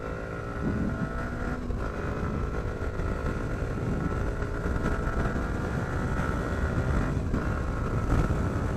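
Yamaha R15 V3 BS6 motorcycle pulling hard along a highway, a steady engine drone with rising whine under constant wind rush, loud and continuous with no talking.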